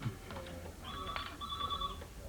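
A telephone ringing in bursts, two trilling rings with a steady tone, heard faintly as if through a handset, with low background hum.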